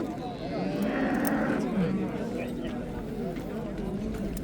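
An ox lows at a busy livestock bazaar in Chiroqchi, Qashqadaryo, a drawn-out moo heard amid crowd chatter and people talking nearby, with market murmur continuing after the call.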